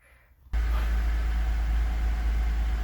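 A 2000 Honda van engine cranks and catches after half a second of near silence, then settles into a steady, loud, close idle with a low rumble that holds evenly to the end.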